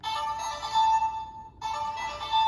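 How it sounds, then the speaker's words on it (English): Electronic ringtone from a Legend Sentai Mobirates Morpher toy, a bright tonal melody that plays, breaks off briefly and starts again, heard alone. "But if I do that, I only get the ringtone."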